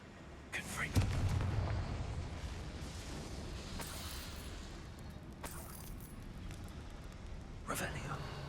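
A Confringo fire spell in a wizard video game sets off several sharp, booming blasts spread across the stretch, with faint voices murmuring in the background between them.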